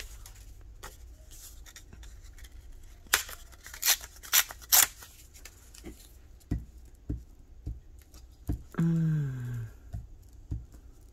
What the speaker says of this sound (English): Just cut a piece off.